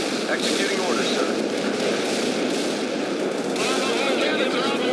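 Artillery fire in the World in Conflict strategy game: a dense, continuous roar of booming shots and rumbling blasts, loud and sustained, with game voices mixed underneath.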